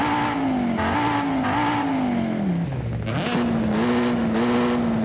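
Inline-five engine revving in a car in Forza Horizon 5, a steady loud drone whose pitch climbs, dips sharply near the end of a pull, then rises again as the engine is blipped continuously, alone with no talk.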